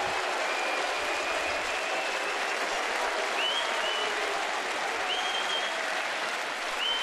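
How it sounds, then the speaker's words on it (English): A large baseball stadium crowd roars with sustained cheering after a home run, a dense, steady wall of noise filling the whole span with no breaks. "They won't be cheering him as much now."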